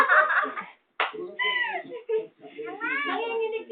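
A pet cat gives a couple of drawn-out, rising meows at close range, mixed in with people talking and laughing nearby.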